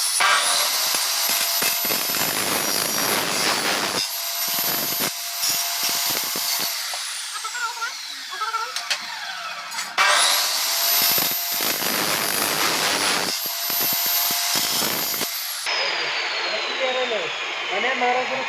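A 2200-watt Bosch power tool cuts a groove in wood, whining loud and steady in two long bursts with a brief drop between them and a lower tail at the end, no talk over it.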